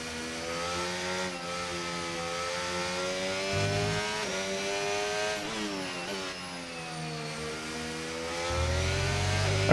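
An F1 25 racing car's engine drones on track, a steady high-pitched whine rising and falling through gear shifts and corners, continuous and close, with no talk.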